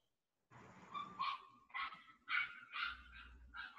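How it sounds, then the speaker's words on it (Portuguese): A dog barks repeatedly in sharp, evenly spaced yelps and barks, fairly close and clear over a quiet background. "eu tô me desconcentrando com o latido do cachorro"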